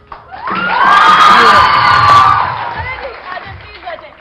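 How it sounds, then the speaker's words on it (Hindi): A television show audience responding with loud cheering and shouting voices, whoops swelling and peaking for about two seconds before fading into scattered crowd noise. "अच्छा तालियां बजा के बता दो, अभी पता चल जाएगा।"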